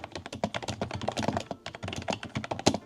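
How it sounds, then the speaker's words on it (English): Rapid keystrokes clatter on a cheap budget mechanical gaming keyboard, close up, with a slightly hollow, rattly click and a quick uneven rhythm. "And the sound of the typing is the absolute worst."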